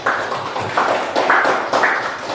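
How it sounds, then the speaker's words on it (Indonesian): Classroom applause for a student group's presentation during a teaching practice session: a small audience claps in a steady, moderately loud patter that swells in a few bursts over a couple of seconds. "Beri tepuk tangan kita sebelumnya"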